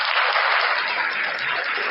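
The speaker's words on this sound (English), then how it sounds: "You got the applause for you there." Steady applause for a musician at a podcast interview, a dense, even wash of clapping that holds at the same level for the whole stretch with no voices over it.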